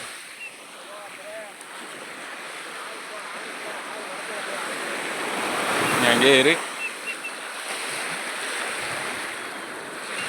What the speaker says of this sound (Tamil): இது கடல் இது கடல்